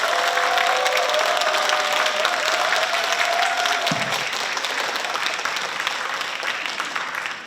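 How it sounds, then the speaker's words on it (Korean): An audience at a Korean healing talk concert applauds steadily as a speaker is welcomed, a dense, loud wash of clapping that continues throughout with a brief tonal sound fading early on. "큰 박수로 하성룡 신부님을 모시도록 하겠습니다"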